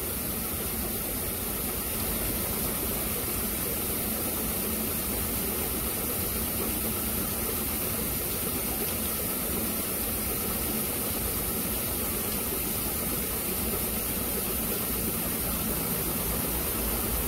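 Small hydroelectric generator turbine spinning, a steady continuous mechanical hum with a broad hiss layered over it, constant and unbroken at moderate level throughout, with no voices.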